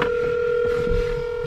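A phone line rings steadily while calling Mike, a sustained electronic tone close and loud with faint rumble beneath.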